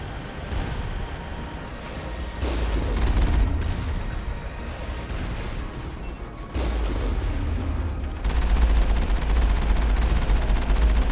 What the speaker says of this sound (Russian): Тяжелая турель гетов.